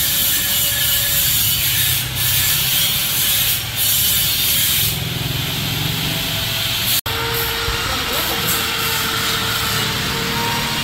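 Steady, loud abrasive rubbing of sandpaper against an iron staircase, continuous for several seconds with a brief break near the end.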